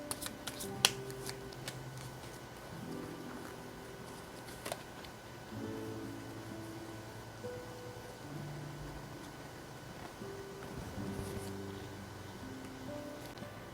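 Tarot cards are shuffled by hand at close range in repeated bursts of riffling and soft slapping, with short pauses between rounds and a few crisp taps, all quiet and without voices.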